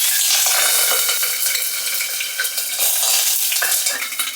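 Cooking oil sizzles and spatters loudly in a frying pan, a dense steady crackle with sharp pops throughout, close and alone with no voices over it.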